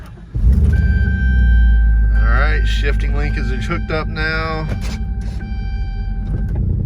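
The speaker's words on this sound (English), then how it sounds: "So let's see if the truck moves." Chevrolet Silverado 1500HD shop truck with an LS 6.0 engine, a loud, close low engine rumble that starts abruptly and holds steady under someone talking.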